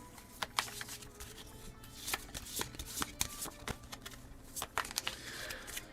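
A deck of board game cards is shuffled close up, giving a run of quick crisp riffles and soft slaps, fairly quiet and with no voices.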